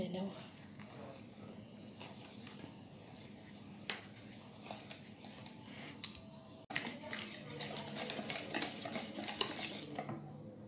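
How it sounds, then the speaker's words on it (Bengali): A spoon stirs flour into semolina soaked in sugar water for malpua batter, making soft repeated scraping and clinking against the bowl, with a louder, busier stretch of mixing in the second half. "এখন আমি 1 কাপ ময়দা দেব, দিয়ে ভালো করে এটাকে নেড়ে নেব।"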